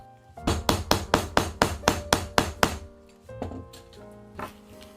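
A hammer strikes a punch to make holes in cut crocodile-pattern leather, about ten sharp, evenly spaced blows in quick succession, then a pause and a few lighter taps.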